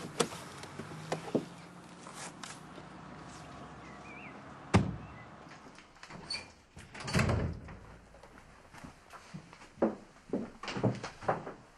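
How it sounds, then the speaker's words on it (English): A door slams indoors, a sharp thud standing out among scattered knocks and handling noises, with later clattering bumps in a quiet room. "Do you have to go around slamming doors?"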